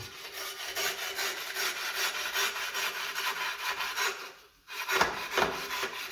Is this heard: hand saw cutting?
yes